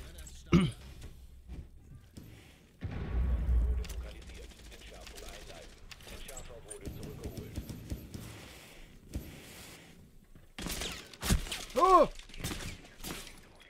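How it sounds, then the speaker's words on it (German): Gunfire and impacts in the tactical shooter Rainbow Six Siege, scattered sharp bursts and shattering hits spread across the stretch, some close and loud, with players talking at intervals. "Ja, die schießen auch durch die Löcher"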